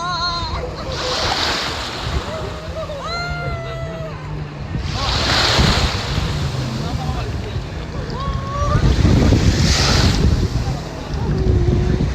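Ocean waves wash in and roll at a beach in Puerto Galera in the early morning, surging in broad swells about every four to five seconds, loud and close, with wind buffeting the microphone and voices talking faintly at moments.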